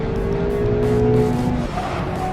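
A 2019 Mazda MX-5 revs hard under full throttle on a race track, with the loud, close engine note climbing steadily in pitch and a slight tire squeal underneath.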